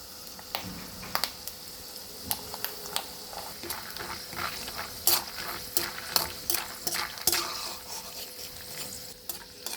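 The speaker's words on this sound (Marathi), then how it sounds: "शेंगदाणे परतून घ्यायचे चांगले भाजून घ्यायचे शेंगदाणे" Peanuts are stirred and dry-roasted in a pan for a traditional green chili thecha, giving quiet rattling and scraping spoon clicks in an irregular rhythm over faint background hiss.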